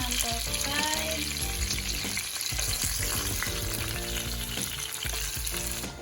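Pieces of fish for Jamaican escovitch fish frying in hot oil, browned on both sides, with a loud, dense, continuous sizzle and crackle close to the pan, plus faint background music.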